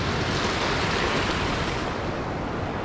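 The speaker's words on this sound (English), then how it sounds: "There's water coming. A lot of water coming." Surf washes up on a beach at night in a steady, loud rush of breaking water with no pause, and no voices are heard.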